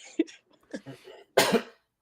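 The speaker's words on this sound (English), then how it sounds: "sorry, got a cough" A single harsh cough bursts out close by after a few quiet, murmured sounds.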